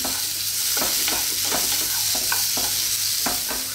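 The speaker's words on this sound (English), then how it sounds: "we're going to fry this around in this little tiny bit of oil that's remaining in there for like 2 minutes, high heat, keep stirring" Ginger, garlic and onions fry in a small amount of oil over high heat, a loud continuous sizzle broken by repeated scraping stir strokes in an uneven rhythm.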